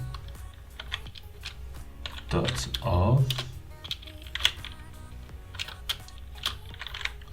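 Computer keyboard typing during a Flutter programming session: quick, light key clicks tapping along steadily at close range, with someone speaking Persian over them.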